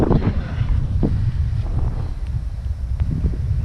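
Strong wind buffets the microphone at a hilltop viewpoint above Narsapur lake, a steady low roar with gusty rumbles throughout and no speech.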